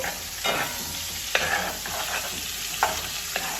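A seafood cook-up with plantain sizzles steadily in a pot while all-purpose seasoning goes in, with a few soft stirring knocks over the constant frying hiss.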